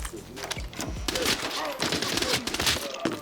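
Gunfire in the shooter game Arena Breakout: Infinite, a dense burst of rapid overlapping shots and thuds, loud and close, with a voice talking briefly over it.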